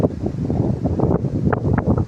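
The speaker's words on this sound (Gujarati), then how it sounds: "હવે અત્યારે ટાઢો પવન આવ્યો છે" Gusty wind buffets the microphone with a low, rumbling roar that rises and falls throughout.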